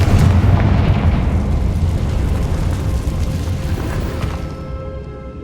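A Confringo spell explodes in the video game Hogwarts Legacy, a loud booming blast with a rumbling, crackling tail that slowly fades over several seconds.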